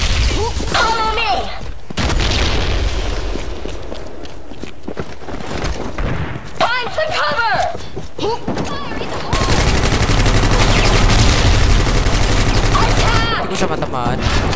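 Gunfire from the online shooter game Mercenary Online 2 rattles in dense bursts over a continuous battle din, with voices and game chatter breaking in at times.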